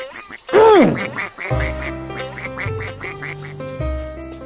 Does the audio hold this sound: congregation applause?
no